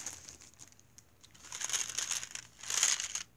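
A plastic bag crinkled by hand, with soft rustling that swells into two louder bursts of crackling near the end.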